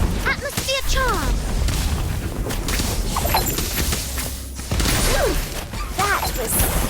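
Atmosphere charm spell combat in Harry Potter Magic Awakened, a loud mix of booms, crashes and mechanical clatter running for about seven seconds, with voices calling out over the effects.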